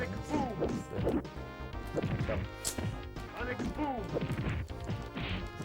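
Punch impacts in the fighting game Street Fighter Turbo land as loud, repeated smacks and crashes over background game music, with people talking over them.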